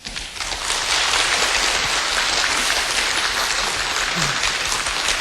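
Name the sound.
audience applause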